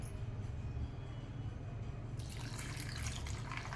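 Water runs steadily into a container of soaking ingredients, a faint continuous trickle that swells into a brighter splashing pour partway through, with no one speaking.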